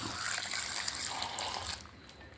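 Half a glass of water is poured into a pot of salted papaya curry, a short, quiet gushing pour that runs steadily and then stops near the end.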